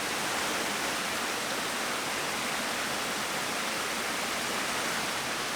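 A waterfall beside a cave makes a constant, even rush of falling water that stays dense and unbroken throughout, with no other sounds standing out.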